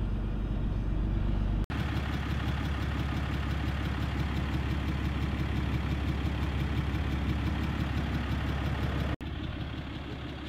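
A Cummins diesel truck engine idles with a steady, even rumble close by, running continuously with two abrupt breaks and no speech over it.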